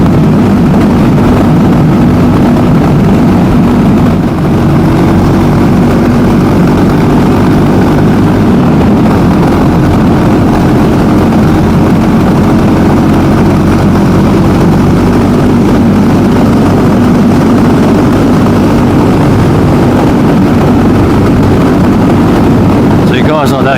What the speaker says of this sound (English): That car needs its exhaust fixed.